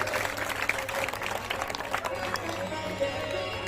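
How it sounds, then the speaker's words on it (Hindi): An audience claps at a Chitragupta Puja cultural program in Asi Bangarhatta, a steady patter of applause from a crowd that thins toward the end, with some voices underneath. "निश्चित इन सबों के लिए एक बार जोरदार ताली।"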